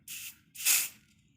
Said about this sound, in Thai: โอเคเราก็มีสเปรย์แล้วนะฮะไม่รู้จะหอมหรือเปล่าลองดูนะ